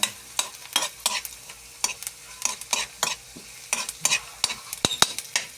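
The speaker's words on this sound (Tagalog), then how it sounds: "sinabay ko na yung bawang at sibuyas mga idol at imimikos-mikos na natin yan" Chopped garlic and onion sauté in hot oil for a sardine-mackerel dish, a close crackling sizzle broken by repeated scraping stirs at an uneven, busy rhythm.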